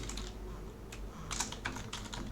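Faint typing on a computer keyboard, irregular clusters of soft clicks over a low steady background hum.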